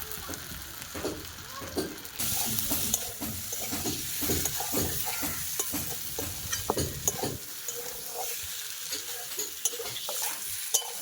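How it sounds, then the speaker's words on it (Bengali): Spice masala and potatoes fry in oil for a Bengali rui fish curry, with a dense sizzle under repeated scraping stirs of a spatula against the pan. The sizzle thins and quiets near the end. "আলুর সঙ্গে মশলাটা ভালো করে কষিয়ে নিয়েছি, দেখো।"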